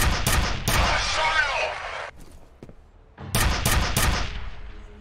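Gunfire in the video game F.E.A.R.: loud, dense bursts of automatic shots, a brief lull with scattered faint impacts, then another heavy volley close up.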